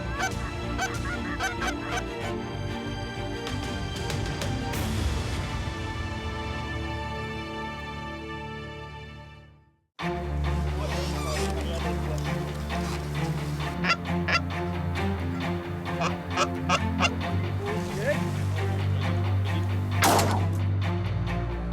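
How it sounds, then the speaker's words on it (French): Canada geese honk repeatedly as they fly over decoys during a Québec waterfowl hunt, loud overlapping calls with wind noise, a brief drop to near-silence midway, then more honking and a sharp burst near the end. "Les bernaches survolent maintenant les appelants avec plus de sécurité."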